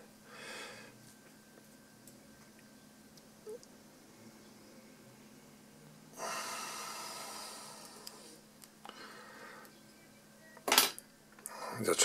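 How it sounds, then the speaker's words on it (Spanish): Scissors make a few faint, sparse snips as material is cut into equal halves for a Pitillo stonefly fly tied in PLA. The room is quiet, with a couple of louder metallic clicks near the end. "Yo la voy a cortar cortando a mitades iguales prácticamente."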